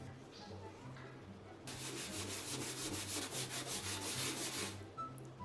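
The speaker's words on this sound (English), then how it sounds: "I'm gonna do half of the pan with this stuff, and we'll see if it scrapes up any of this disgusting grime" Scrubbing grime off the back of a pan with a viral cleaning product, a steady rhythmic scratchy rubbing that starts partway through and runs for about three seconds over a low background hum.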